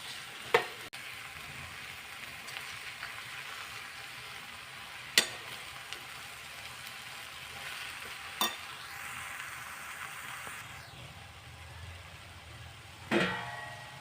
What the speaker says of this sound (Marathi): कांदा फ्राय झाला आहे चांगला, त्यामध्ये आपण सोयाबीन टाकून घेऊ